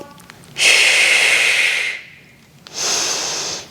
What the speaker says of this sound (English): Exhale and inhale.